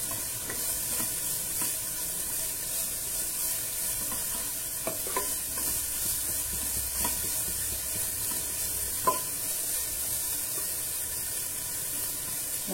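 Beans and carrots stir-fry in a pan for plain fried rice, with a continuous hissing sizzle and occasional spatula scrapes and taps, close and steady. Nobody talks.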